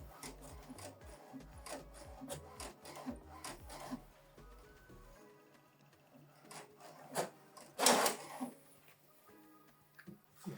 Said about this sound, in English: So what it's doing now is printing alignment.